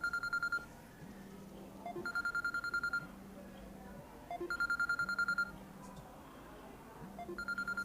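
Telephone ringing in a short film: a repeating electronic double-tone ring sounding in regular bursts about every two seconds, moderately loud, with a low steady hum underneath and no talk.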